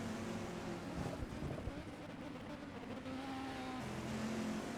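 A Corvette race car in a racing video game, its engine droning steadily with wind-like noise during an endurance race in Istanbul, set against broadcast commentary.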